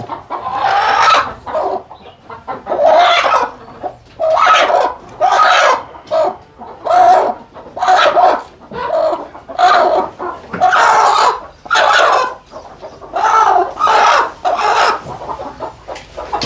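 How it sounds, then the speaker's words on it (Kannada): Native country chickens cluck and call loudly, close by, in a long run of repeated bursts separated by short pauses. No speech is heard. "ನೋಡಿ ನಾಟಿ ಕೋಳಿ ತಾಕತ್ ಹೇಗೆ"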